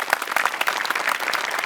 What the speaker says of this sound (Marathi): तर सचिनसाठी आणि विनायकसाठी टाळ्या